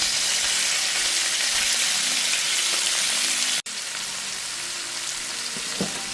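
Shrimp with garlic sizzling and frying in a hot wok for Chinese-style shrimp fried rice, a steady loud crackling hiss throughout, briefly broken by one sharp click.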